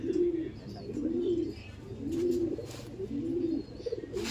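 A pigeon coos repeatedly in soft, low rolling phrases, close by, with faint background noise between calls.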